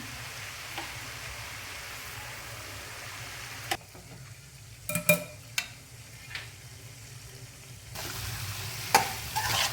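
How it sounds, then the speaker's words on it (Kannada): Fenugreek leaves with salt are stirred through hot tempering oil, a soft steady sizzle under several sharp scraping clicks of a spoon against the pan, fairly close and moderately quiet, with no voices. "ಒಗ್ಗರಣೆ ಕೊಟ್ಕೊಂಡೆಲ್ಲ 1 ನಿಮಿಷ ಈ ರೀತಿ ತಿರುವಾಡ್ಕೋರಿ, ಮಿಕ್ಸ್ ಆಗಲಿ."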